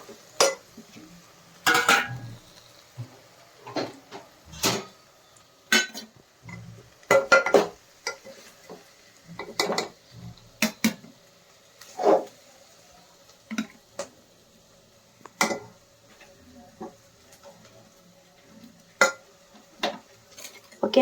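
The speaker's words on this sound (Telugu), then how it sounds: "అయిపోయింది క్యాబేజీ ఫ్రై. ఇలా ఒకసారి కలుపుకుందాం." A spoon scrapes and clinks through cabbage keema fry in a pan, giving a run of sharp, close knocks and scrapes at an irregular pace with no speech over it.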